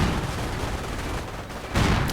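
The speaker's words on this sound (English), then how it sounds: "MG42 still firing." An MG42 machine gun fires in a World War II strategy video game, a dense, loud crackle of rapid bursts mixed with other battle noise, swelling at the end.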